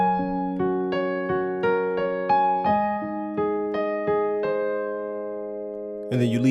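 Part 4 of a song is played on piano as a slow sequence of single notes and chords struck one after another, ringing and decaying, close and clear, with a brief noise at the end.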